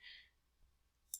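A computer mouse clicks quietly, with a brief click near the start and a quick double click at the end, against near silence.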